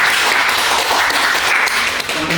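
A university class claps together after the opening prayer, a short, steady burst of applause that fills the room for a couple of seconds.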